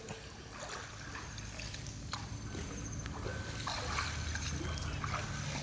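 A swimmer's arms slap and pull through pool water in repeated splashy strokes, steady and fairly close, with a faint voice now and then in the background.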